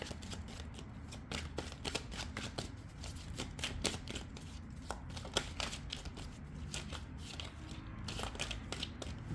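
Tarot cards being shuffled by hand, a quiet, close, continuous riffle of rapid papery flicks and slaps with brief irregular pauses, no speech over it.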